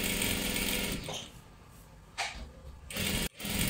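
A sewing machine stitches a salwar with a continuous close whir that drops into a softer stretch and then returns in short bursts, with a sharp click before the last burst and no talking.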